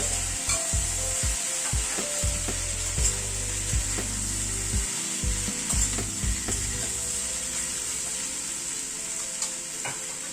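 Grated ginger stirred as it fries in a pan, a steady sizzle broken by repeated scraping and clacking strokes of a spoon against the metal, close and fairly loud, with no voices.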